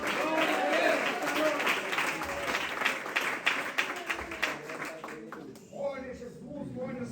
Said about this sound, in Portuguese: Tem alguém que pode aplaudir ao Senhor?